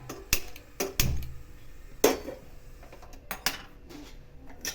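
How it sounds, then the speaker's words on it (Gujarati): A metal kadai set down on a home kitchen stove while making kanda poha gives a few sharp, close clanks and knocks spaced across a few seconds, with no one talking. "સૌથી પહેલાં કઢાઈ મૂકીશું"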